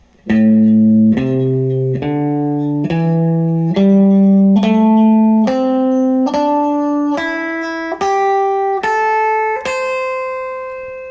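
Guitar notes climb one at a time in a steady ascending scale, each plucked note ringing clearly, about a dozen in all, with no talking.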